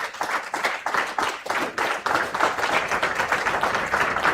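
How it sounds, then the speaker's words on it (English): An audience at a business and career symposium claps after a speech, with fairly close, rhythmic hand claps from a modest crowd, steady and unbroken, with no voices over them. "Let's give a wonderful and thunderous hand clap."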